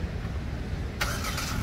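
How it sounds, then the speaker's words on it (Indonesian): A Hyundai Stargazer Trend starts up, with a steady low rumble underneath and a brighter burst of engine noise at about the one-second mark. The sound stays fairly close and continuous. "ketika mesin dinyalakan"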